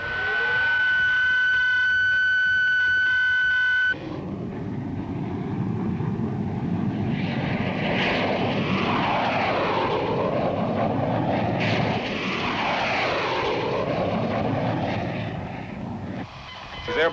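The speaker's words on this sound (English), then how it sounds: "She's airborne, Dr. Everett." Aircraft engine roaring loud and steady as a test plane takes off in a sci-fi drama, opening with a tonal whine before the broadband roar swells and sweeps.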